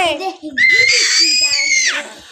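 A baby's shrill, sustained scream rings out close to the microphone after a few brief vocal sounds, then breaks off.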